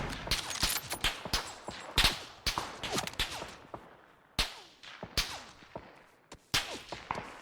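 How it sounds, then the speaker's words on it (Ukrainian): Rapid bursts of distant and nearby gunshots in the video game PUBG crackle in an irregular string, sharp cracks echoing one after another without pause. "Вони ще з кимось стріляються там."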